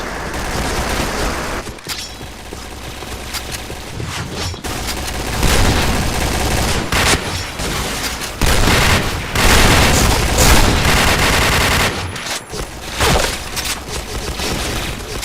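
Pindad SS2 V5 rifle fire in the video game Point Blank, loud rapid bursts and single shots crackling close up, with booms and near-continuous firing across the whole stretch.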